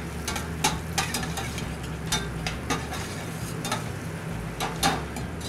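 Shallots sauté in a pan with a steady soft sizzle, broken by sharp clinks of stirring every second or so, up close and without talk.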